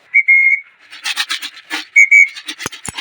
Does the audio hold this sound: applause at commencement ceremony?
no